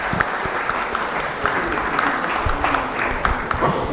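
A large audience at an annual investment outlook event applauds the panelists, a dense, steady round of clapping that fills the whole stretch at fairly close range.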